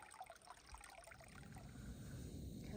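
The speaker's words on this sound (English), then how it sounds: "So I'm going to fill up my water bottle, and then filter it." Water trickles and dribbles from a trail water source on the Appalachian Trail as a bottle is filled, a soft continuous burble at close range that swells slightly toward the end, with no talking.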